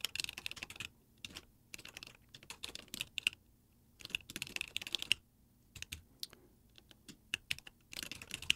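Code is typed on a computer keyboard, rapid close clicking keystrokes in bursts separated by short pauses, with no voices over the typing.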